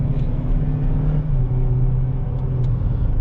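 A 2019 GMC Terrain SLE compact SUV with a 1.5 L engine, front-wheel drive, a 9-speed automatic and 96k miles accelerates, giving a steady, close low rumbling drone from inside the cabin with no talk.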